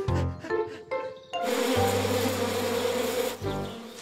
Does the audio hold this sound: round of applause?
no